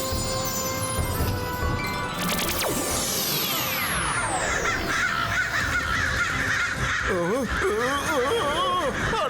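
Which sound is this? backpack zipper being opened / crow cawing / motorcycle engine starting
crow cawing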